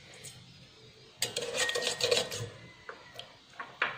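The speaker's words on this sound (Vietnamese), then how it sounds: "Mình khuấy cho nó tan đường." A spoon stirring sugar into warm milk until it dissolves, giving light metallic clinks and scraping against the bowl in short bursts, fairly close and quiet.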